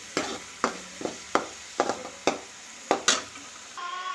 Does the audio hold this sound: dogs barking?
no